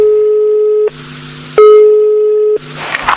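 Telephone ringback tones sound as a call is placed, a loud steady electronic beep alternating with a lower two-tone pattern in even cycles, with brief noise bursts between them and no talking.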